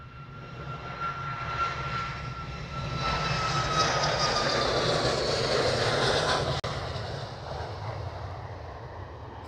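Jet engines on a Ryanair airliner at Manchester Airport give a broad, steady roar that swells and holds fairly loud, carrying a faint descending whine.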